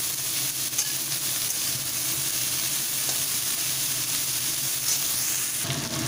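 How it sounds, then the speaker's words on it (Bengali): Cauliflower florets sizzle and crackle steadily in hot oil over a full gas flame, a constant bright frying hiss that runs on without talk. "গ্যাসটাকে ফুল ফ্লেমে দিয়ে ফুলকপিগুলোকে ভাজা ভাজা করবো।"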